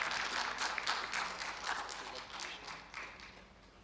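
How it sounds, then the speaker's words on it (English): An audience applauds teachers at an award event, many hands clapping together in a steady, fairly faint wash that gradually tapers off toward the end. "Please let's clap for our teachers."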